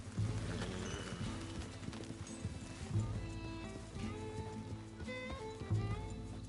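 Horse hooves clip-clop at a steady walking rhythm in Red Dead Redemption 2, with soft ambient game music and chimes layered over the repeated thuds.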